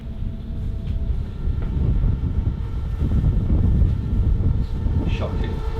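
Strong cold wind blows steadily outdoors on a cycling day, a loud continuous low roar buffeting the microphone throughout with no pauses.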